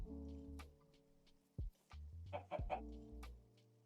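Chickens clucking in the Minecraft StoneBlock modpack, a handful of short, faint clucks scattered through a quiet stretch alongside soft blocky game sounds.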